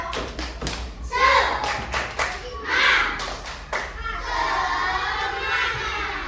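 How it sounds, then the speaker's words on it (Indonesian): Schoolchildren in a classroom clap a rhythmic spirit clap in several short bursts, with shouting voices mixed in between the claps and a steadier crowd murmur toward the end. "Coba tepuk semangat."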